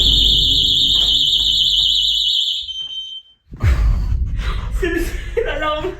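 Fire alarm in a kitchen sounds loud and piercing, beeping with a warbling tone for about two seconds before cutting out. Excited voices and laughter follow at close range.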